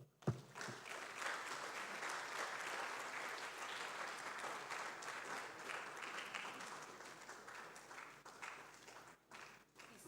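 Audience applause at a university publishing studies colloquium, sustained clapping from a seated crowd that holds steady for several seconds before thinning near the end, somewhat distant and faint.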